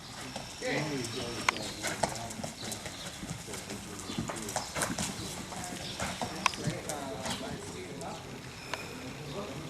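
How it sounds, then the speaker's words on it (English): Horse hooves clip-clop in an uneven rhythm on a hard surface at a stable, with people talking throughout and occasional sharp knocks as a young horse is worked. "They are now working on a young horse."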